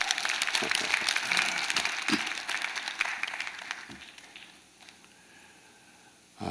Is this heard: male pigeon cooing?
no